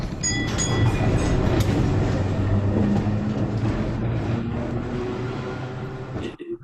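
A tram running as a sound effect in an audio story: a steady, continuous rumble of wheels and carriage that fills the whole stretch, holding loud and even before tapering off right at the end.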